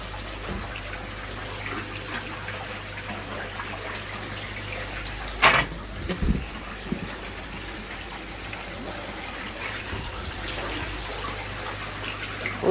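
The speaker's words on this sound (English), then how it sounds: "there's holes there. So that will evenly drop the holes, drop the water through and onto the media below." Water trickles steadily through the drilled holes of a homemade 25-litre trickle tower onto the media below, a continuous close splashing hiss with a brief louder knock or splash partway through.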